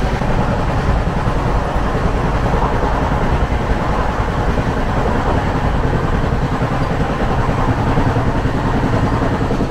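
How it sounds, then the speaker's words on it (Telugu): An AC economy-class train runs at about 120 km/h, heard from inside near the door as a loud, continuous broadband rumble and roar with steady rail clatter throughout. "మన ట్రైన్ వచ్చేసి దాదాపు 120 km/h ఓడుతుంది స్పీడ్."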